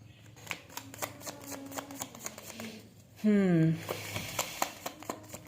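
Tarot cards being shuffled by hand, giving soft riffling and flicking sounds at close range beneath someone speaking Hindi, with a brief loud burst of voice partway through.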